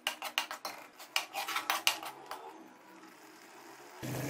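Ginger garlic paste and masala stir-fried in ghee in a karahi, with a spoon scraping and clinking against the pan in quick repeated strokes, then a quieter steady sizzle.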